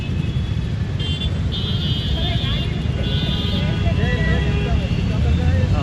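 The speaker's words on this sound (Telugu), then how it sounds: "కార్ అయితే ఇగో ఎలా వెళ్తుంది చూసారా," A car pushing through a flooded street in Hyderabad during heavy rain, with a loud, continuous rushing roar of engine and water, a few tonal horn-like sounds, and people talking over it.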